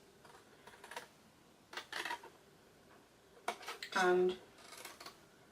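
Paper scissors cutting coordinating cardstock along score lines while making a slide-open candle box, heard as a few short crisp snips spread across the moment, close and fairly quiet, with a brief word spoken.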